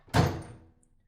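A door swinging shut with a single dull thunk, close and fairly soft, its low thud fading out over about half a second with no voices.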